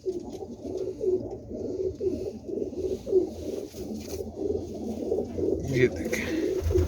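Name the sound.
royal zeera pigeon cooing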